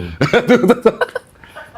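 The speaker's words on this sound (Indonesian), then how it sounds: "Gue lagi batuk." A quick burst of several close, harsh coughs, then fading to quiet.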